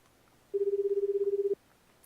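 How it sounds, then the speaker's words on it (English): A single steady tone of about a second from a cell phone in the video game 428: Shibuya Scramble, heard as a number is dialed, sitting above quiet background noise. "Osawa picked up his cell phone and dialed Tanaka's number"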